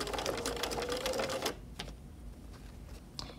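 A sewing machine stitches a curved seam in fabric, running in a fast steady rattle for about a second and a half, then stopping to leave a few faint clicks and handling noises.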